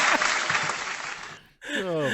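A burst of clapping from a small group rattles for about a second and a half, then cuts out and a voice starts speaking.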